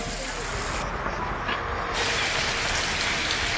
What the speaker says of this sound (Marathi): पाऊस चांगला असा पाऊस होतोय